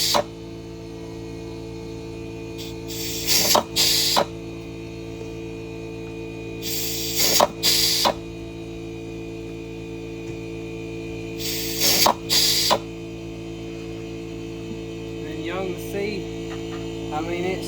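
An air-powered corn cob stripper working on sweet corn, with three short bursts of loud pneumatic hissing and stripping a few seconds apart over a steady electrical hum. A quieter rattling follows near the end, and no one speaks.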